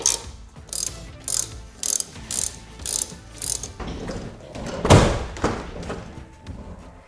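Ratchet tightening bolts on a lock fitted to a Ford Transit cargo van: about eight crisp clicking bursts in a regular rhythm, close up, followed by a heavier thump and a few scattered clicks.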